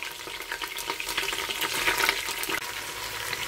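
Onion sautés in a pan with beef veal, giving a loud, bubbly sizzle with scraping stir noises throughout, close and continuous, with no talking.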